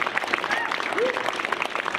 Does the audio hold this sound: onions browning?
no